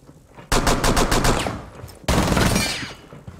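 SMG fire in the video game Rainbow Six Siege: two loud, rapid bursts of automatic shots, the first a rattling string of quick rounds, the second a dense continuous spray, close and dominant with no talk.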